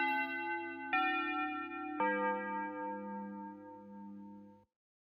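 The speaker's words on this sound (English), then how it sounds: "Suddenly, the bell rang," A school bell rings at the end of a class period, sounding three clear tolling strikes with rich, ringing overtones. Each strike decays slowly into the next, and the sound fades out after about four seconds.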